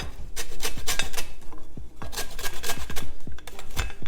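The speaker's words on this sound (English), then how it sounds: "I'm going to just grate the zest of 1 whole lemon" Zest rasped from a whole lemon on a grater makes quick, close scraping strokes in an uneven rhythm, fairly loud and free of any talking.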